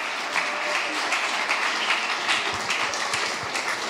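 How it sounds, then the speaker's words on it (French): A crowd at the Prix Chronos 2023 ceremony claps for an award winner, steady close applause filling the whole moment with no one speaking over it. "On peut applaudir Marc Woltenhauer pour le Manoir Maudit."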